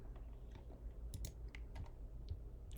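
Fingers type on a computer keyboard while entering an order for materials, producing irregular bursts of sharp, close key clicks with short pauses, alone with no talk.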